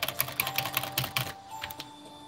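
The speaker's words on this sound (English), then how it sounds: "Keyboard is right here. I don't know if you can hear it." Computer keyboard typing while playing a mobile ninja game, with quick uneven clusters of crisp key clicks close to the mic that thin out toward the end.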